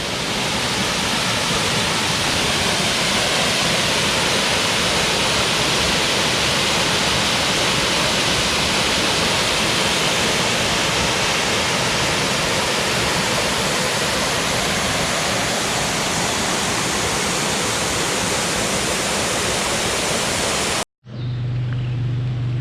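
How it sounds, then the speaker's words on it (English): Long Creek Falls waterfall roars as a loud, constant broadband wash of falling water, unbroken and close, with no voices, until a sudden cut near the end. "Well, we made it. This is Long Creek Falls."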